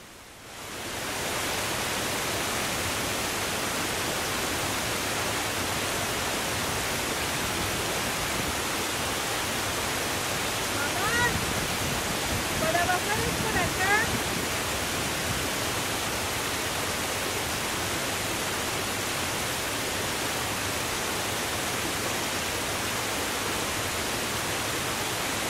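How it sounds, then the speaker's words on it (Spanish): A 30-metre waterfall near Creel, Chihuahua, heard as a constant broadband roar of falling water, loud and unbroken throughout with no voices. "Ya llegamos hasta donde está la cascada, aquí la tenemos por debajo"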